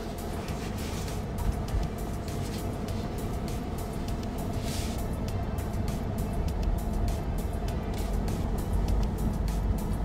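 A Tesla Model 3 or Model Y is driving, heard from inside as a steady, quiet hum of road and tire noise with no voices.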